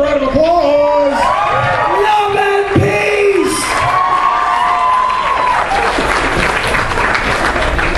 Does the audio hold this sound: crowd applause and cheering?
yes